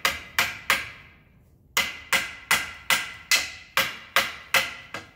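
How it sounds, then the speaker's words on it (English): Hammer blows on boards while building a hunting hideout: three quick sharp strikes, a short pause, then a steady run of about eight evenly spaced, ringing hits, close and loud. "Oh, let's keep hammering, we'll find out."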